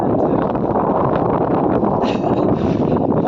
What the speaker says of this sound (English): there's a little slightly more wind than I anticipated